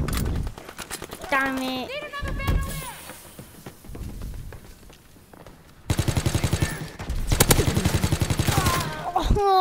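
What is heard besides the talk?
gunfire in a PS4 shooting video game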